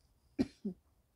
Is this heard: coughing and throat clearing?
yes